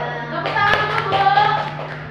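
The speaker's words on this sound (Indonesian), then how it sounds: "Tepuk tangan untuk Bu." Brief clapping from a small group of women at a teachers' sharing forum, a short burst of scattered hand claps rising and fading over a steady background hum, with a faint tone under it.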